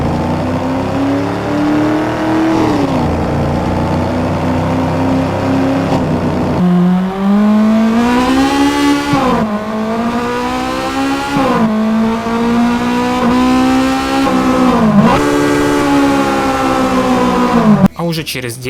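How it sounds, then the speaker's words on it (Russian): A car engine from a Need for Speed Underground 2 remake built in Unreal Engine 4 revs repeatedly, rising and dropping through gear shifts as loud synthetic whines, with a voice talking over part of it. "23 февраля выходит тест звуковых эффектов, а в частности двигателя"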